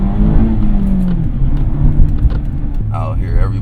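2020 Mazda Miata RF MX5 engine, a low droning note rising gently under acceleration with road rumble, then dropping and settling into a steadier hum near the end.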